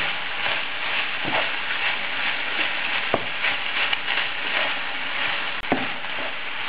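A filling of peppers and fish stirred in a frying pan, giving a steady close sizzle with scattered scrapes and taps of the utensil and no talking.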